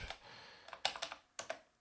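Someone types commands on a computer keyboard in quiet, irregular bursts of sharp, close key clicks with short pauses between them.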